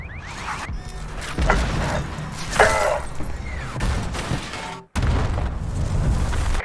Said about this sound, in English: Your Dreadnought has been destroyed by enemy action.